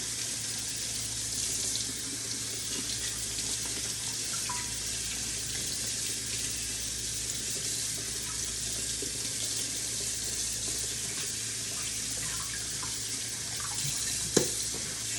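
Steady stream of water from a kitchen faucet rinsing fresh produce, such as ginger, in a sink, a continuous close splashing hiss lasting throughout with one brief sharper clink near the end, no talking.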